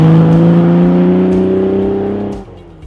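A classic rally car's engine drones loudly and steadily on quiet public roads, holding a rich, even tone before easing off and fading near the end.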